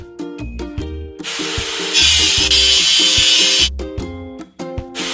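Power tool grinding rust off a truck machine, running in loud bursts with a rough abrasive hiss in the middle, amid intermittent thumps and clatter, with no talk.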